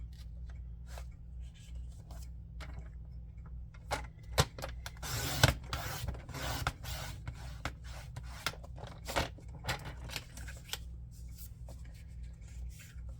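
Scissors cutting cardstock for a handmade Christmas card, a run of quiet, close snips and crisp rustles arriving in uneven bursts, with no talking.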